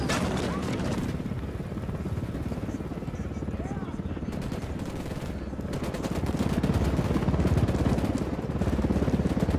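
A helicopter in the video game Ghost Recon Wildlands thrums beneath loud, sustained bursts of machine-gun fire and scattered shots during a firefight.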